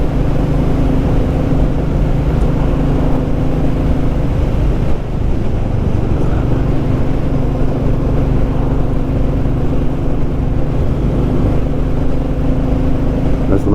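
A Royal Enfield Classic 350 motorcycle on the move gives a continuous, steady engine rumble mixed with heavy wind buffeting, with no break across the whole stretch.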